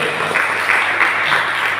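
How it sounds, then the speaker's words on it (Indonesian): An audience at the final of a school debate competition in Makassar applauds both teams, producing a dense, sustained wash of clapping that fills the hall evenly from start to end. "mari kita berikan tepuk tangan yang meriah terhadap kedua tim kita pada sore hari ini"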